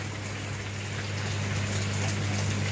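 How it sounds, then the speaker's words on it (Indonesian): Steady broadband rain hiss falls continuously and evenly during an outdoor restoration of a Yamaha RX-King motorcycle, with a low constant hum beneath and no voices. "Kondisinya hujan nih sekarang teman-teman."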